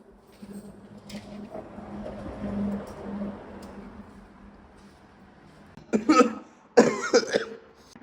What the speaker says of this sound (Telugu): దగ్గుడు